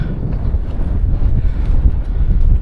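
Cold wind buffeting a microphone on a winter fell summit in the Lake District, a loud, continuous low roar with gusty surges and no talking.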